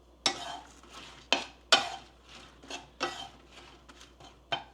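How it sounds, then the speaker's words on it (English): Shishito peppers blister in a hot pan, giving sharp sizzling pops and crackles in irregular bursts over a steady low hiss, close and fairly loud, with no voices. "you can kind of hear some popping with the peppers once they get some heat on them"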